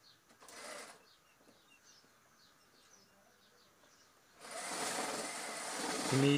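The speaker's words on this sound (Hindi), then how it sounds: "कमीज के दूसरे बाजू में सिलाई मारते हुए" A sewing machine stitches the sleeve of a kameez, with a short burst of running near the start and a longer steady whirring run in the last two seconds, faint chirps in the quiet between.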